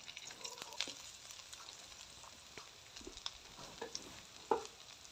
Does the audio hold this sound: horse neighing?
no